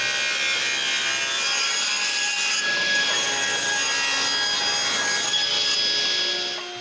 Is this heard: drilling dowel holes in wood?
yes